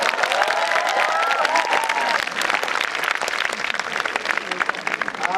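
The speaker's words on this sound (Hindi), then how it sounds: "उस कनेक्शन के लिए जोरदार तालियां" Audience applause at the valedictory function of a wellness conference, steady dense clapping filling the hall for the full five seconds with crowd noise and a few faint voices underneath.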